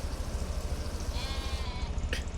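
A sheep or goat bleats briefly and fairly close on a farm, heard over a steady low rumble of machinery.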